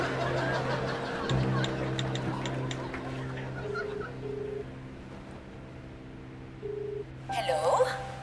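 Phone being dialed in a TV sitcom scene: a series of short electronic beeps and ringing tones over a background hum, with people talking around them and a louder noisy burst at the end.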